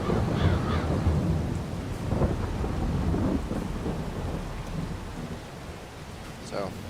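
Rain and thunder in the video game Farming Simulator 22, heavy rainfall with rolling thunder rumbles at moderate volume, fading slightly toward the end.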